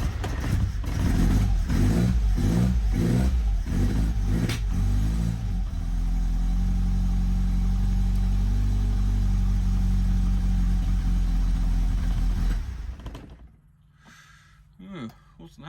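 A Lotus Elan engine cranks with a rapid rhythmic starter chatter, catches and runs loud and rough for several seconds, then dies away, leaving near silence with a faint stir at the end.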